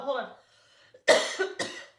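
Several close, harsh coughs from a man during a film podcast recording, two strong bursts following a softer vocal sound.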